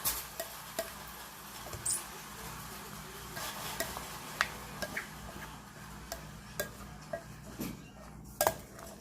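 Pico de gallo is mixed in a bowl with a utensil, giving irregular light clinks and scraping taps over a quiet background.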